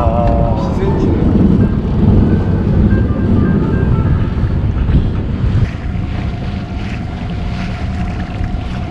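Wind blowing hard over a sailing yacht at sea, a loud constant roar buffeting the microphone along with water and hull noise, with people talking underneath.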